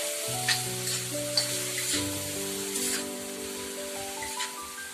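Cabbage bhaji sizzles and crackles steadily in a pan while it is stirred, with occasional scraping clinks. The frying stays fairly quiet, and soft background music plays beneath it.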